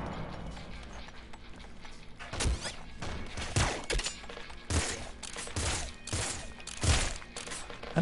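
Gunfire in the top-down roguelike shooter Nuclear Throne: repeated sharp crackling bursts at uneven intervals over a busy background of game clatter and music.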